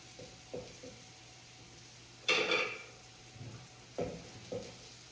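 Metal spatula scraping and stirring sweet potato hash in a cast iron pan over medium-high heat, a few soft clinks and scrapes, then a louder sizzling burst followed by intermittent scraping strokes, close by.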